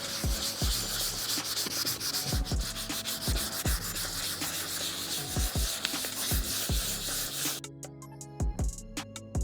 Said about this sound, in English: We can sand it down. I'm going to use again 400 gradation sanding pad.